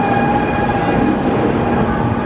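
Shinkansen bullet train in Japan, heard as a loud, steady rumbling roar with a faint tonal whine running through it, continuous and close, with no talking.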